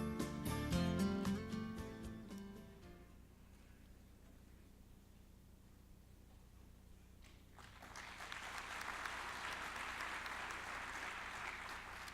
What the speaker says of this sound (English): Ladies and gentlemen, please greet him with a big round of applause.